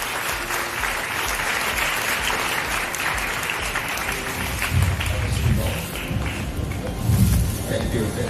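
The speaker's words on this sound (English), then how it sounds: "Let's give him a big round of applause." An audience applauds steadily to welcome a speaker at a parenting talk, a dense sustained wash of clapping with a few louder swells and some crowd noise mixed in.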